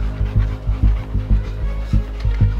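Several dogs on a group pack walk pant close by in quick rhythmic bursts of breathy huffs, loud and continuous with no talking.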